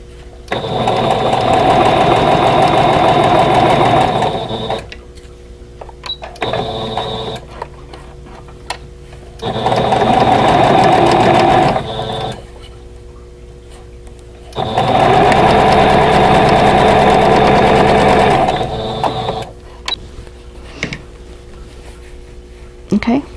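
A sewing machine stitches a vintage Snail's Trail quilt block in three steady bursts of rapid mechanical whirring, each lasting a few seconds, separated by pauses with soft handling noises and some talk.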